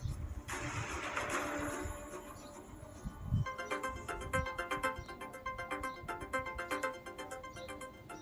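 A mobile phone rings indoors with a repeating tonal ringtone that rises over a low rumbling background, steady and moderately loud for several seconds.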